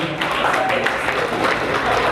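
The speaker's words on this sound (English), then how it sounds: "Another round of applause to President Daniel Nachibinge" Crowd applause at a Rotaract club installation ceremony in Kampala, steady dense clapping filling the room for a couple of seconds, fairly loud with no voices on top.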